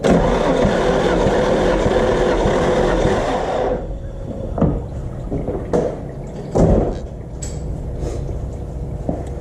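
A Nissan SR20DET engine cranks over cold during a compression test, a steady loud mechanical churn for about four seconds, then stops, leaving quieter clicks and knocks from the engine bay.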